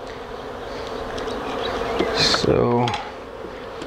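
Honey bees hum and buzz in a steady drone around a fairly new hive being removed in Harlingen, Texas. Near and constant, with a brief spoken word and some clinking noises partway through.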